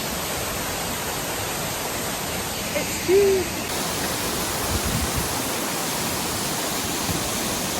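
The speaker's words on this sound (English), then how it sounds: "We've made it to the waterfall." Broad, steady rush of a waterfall in Scotland, loud and constant from nearby, with a brief voice speaking over it partway through.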